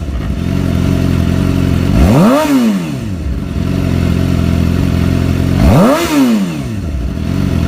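A Suzuki GSX-R750 sport bike engine idles loudly and steadily, then is blipped into two sharp revs that climb and fall back, a few seconds apart, with no one talking.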